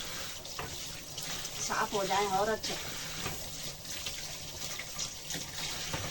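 Tap water runs steadily while plates are washed in a home kitchen, a continuous close splashing hiss with someone talking over it.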